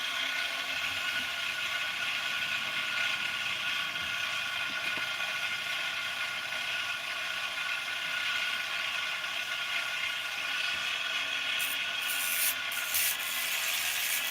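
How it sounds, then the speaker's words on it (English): Continuous steady grinding of a well-worn hand tool, ground down to gain more depth, heard close and even throughout with no pauses and no speech, and a few light metallic ticks near the end. "I just grind it down so I get a little more depth."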